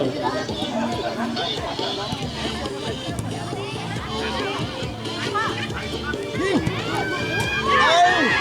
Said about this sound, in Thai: เสียงเชียร์มาเลยครับเสียงเชียร์มาเล้ว